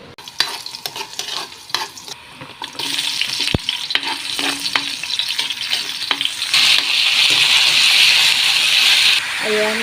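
Chicken with chayote, lemongrass, onion and garlic sizzles in a pan for chicken tinola, with stirring clatters, the frying hiss growing louder and steadier midway, close up.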